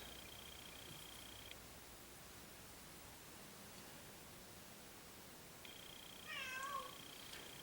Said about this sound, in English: Miss Studio Cat has just entered the studio, aka Cinders